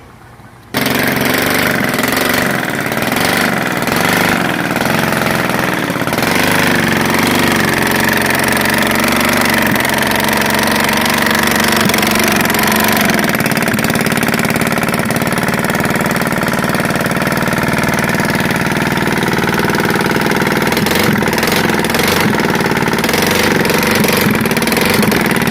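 Hybrid piston/rotary engine from Hybrid Engines Corp running on a test stand, oil pumping slightly too much: a steady, loud mechanical drone with a knocking, hammering rhythm that continues throughout after a brief quiet start.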